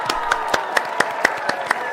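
On a French general-knowledge quiz show, a small group claps steadily for the winning contestant, crisp even claps repeating about four times a second at close range.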